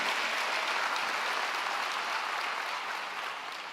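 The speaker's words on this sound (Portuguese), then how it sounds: "Você pode aplaudir o Senhor?" Church congregation applauding during a Christmas sermon, a dense, even wash of clapping that holds steady and fades slightly near the end.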